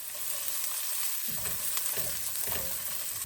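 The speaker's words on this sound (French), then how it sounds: "D'abord, il faut hacher les échalotes et les ajouter à la poêle." Chopped shallots fry in a pan, a steady hiss that grows louder partway through as they hit the hot fat, with light stirring scrapes.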